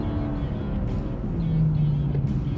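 A BMW M2 CS with a six-speed manual climbs a twisty mountain road at full throttle, its engine near redline, a loud, steady drone with a slowly rising tone throughout.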